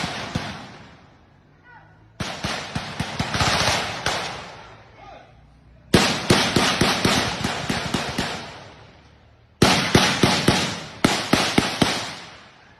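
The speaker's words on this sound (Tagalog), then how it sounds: "Maririnig sa video ang halos walang tigil na putukan." Rapid, sustained bursts of gunfire crack in long volleys, with short lulls between them, loud and echoing, from armed clashes between MILF and MNLF groups in a village in the Philippines.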